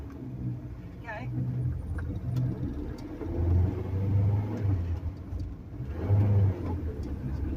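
A Ford Cortina Mk3 estate's engine rumbles low inside the cabin, rising and dropping through a gear change while someone talks over it and keys jangle faintly.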